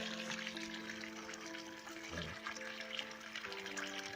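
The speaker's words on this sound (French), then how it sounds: "où on entend l'eau couler." Spring water running steadily out of a pipe downstream of a source at a rural holiday cottage, a continuous close trickle and splash with faint tonal hum beneath and no voices.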